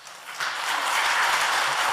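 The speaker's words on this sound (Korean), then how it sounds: "반갑게 박수로 환영해 주셨으면 좋겠습니다." A church congregation breaks into warm applause to welcome the preacher at an afternoon worship service, the clapping swelling quickly into a dense, sustained roar of many hands that fills the hall.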